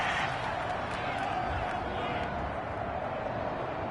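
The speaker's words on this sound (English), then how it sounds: "this crowd does not like that call" In a football video game, a stadium crowd reacts to a roughing-the-passer penalty with a steady, dense roar of boos and murmuring. The noise holds even and loud throughout, and commentary voices mix into the crowd.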